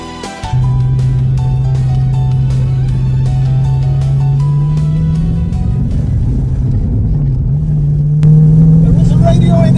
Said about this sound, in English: the V8 rumble is music to my ears